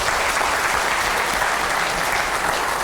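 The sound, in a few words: audience applause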